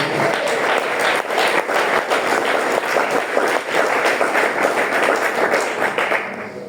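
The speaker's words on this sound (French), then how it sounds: "Quelqu'un peut acclamer pour le Seigneur?" A church congregation applauds and cheers in praise of the Lord, a loud, dense wash of clapping from many hands that holds steady, then thins slightly at the end.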